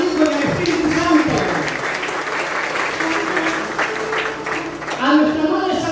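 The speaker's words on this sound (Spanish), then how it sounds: "Regalemos un fuerte aplauso al Padre, al Hijo y al Espíritu Santo." A church congregation applauds together in a sustained burst of clapping, loud and dense throughout, with voices rising over the applause at the start and again near the end.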